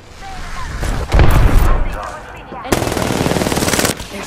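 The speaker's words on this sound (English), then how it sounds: "They're shooting at me." Automatic gunfire in the Apex Legends battle royale game, two loud sustained bursts of rapid shots with heavy low thumps, separated by a quieter stretch of ambient game noise.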